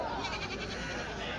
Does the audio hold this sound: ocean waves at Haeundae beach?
no